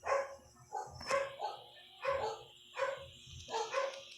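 A dog in the Roblox game 99 Nights in the Forest barks about six times in a quick, evenly spaced run, close and clear with no talk over it.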